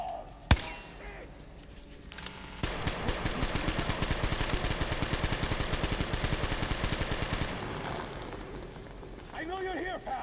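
Rapid automatic gunfire from the first-person shooter Metro Exodus, a loud sustained burst lasting several seconds after a sharp single shot, followed by quieter game sounds and a voice.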